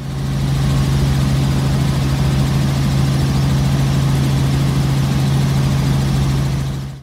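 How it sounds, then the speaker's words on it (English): A helicopter in cruise flight along a coast, heard from the cockpit as a loud, steady low drone with a constant rotor tone that holds unbroken from start to finish. "This helicopter pilot's point of view as he cruises along a coast."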